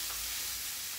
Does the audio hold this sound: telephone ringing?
no